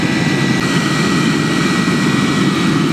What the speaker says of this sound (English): you can hear it starting to sound more and more like a jet engine